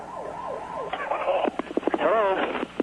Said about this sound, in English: From 3 miles away, a Spencerport volunteer ambulance was also sent.